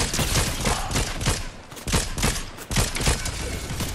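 Gunfire in Fortnite crackles in loud, rapid bursts of repeated shots with brief gaps between volleys, close and continuous throughout.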